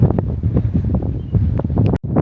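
Steady wind buffeting a microphone outdoors at the entrance to the Big Pit mine's pithead baths, loud and gusty throughout, with a brief dropout near the end.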